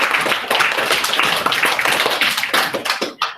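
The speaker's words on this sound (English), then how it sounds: "should we all have a big clap for those things?" Children and staff clapping together at a school celebration assembly, close and loud, with brisk irregular hand claps packed densely and fading out just before the end.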